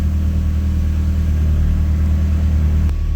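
A warming-up car engine idles steadily at about 1,000 RPM, a smooth, constant low rumble close by with no revving or voices.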